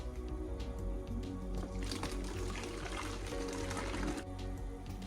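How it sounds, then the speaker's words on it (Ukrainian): Homemade chicory kvass streams and trickles steadily into a 2-litre plastic bottle, a continuous liquid pour that runs the whole way with rising bubbly gurgle. "Зараз заливаємо в бутилку."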